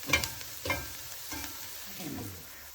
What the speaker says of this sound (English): Fry down a bit, so we'll just add the garlic.